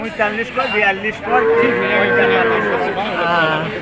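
A cow moos repeatedly at a busy cattle market, its drawn-out lowing rising and falling across a few seconds, mixed with surrounding market noise.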